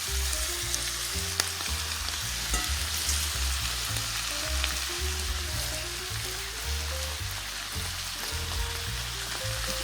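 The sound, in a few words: cabbage frying in a pan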